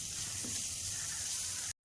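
Long beans and potatoes frying in a pan give off a steady, close, bright sizzle that runs unbroken for under two seconds and then cuts off abruptly.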